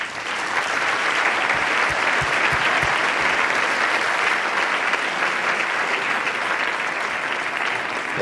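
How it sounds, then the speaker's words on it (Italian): An audience at a talk applauds as guests are invited onto the stage, dense continuous clapping throughout, loud and even. "un grande applauso"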